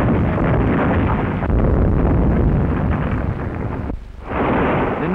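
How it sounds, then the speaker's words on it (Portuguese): Continuous roaring blasts and crackling bursts of Second World War gunfire and explosions, loud and dense, dipping briefly near the end before surging again. "Tiros certeiros destruindo alvos."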